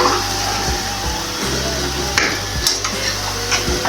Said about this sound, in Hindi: और इनको हल्के हाथ से अच्छे से हिला लेंगे, मिक्स कर लेंगे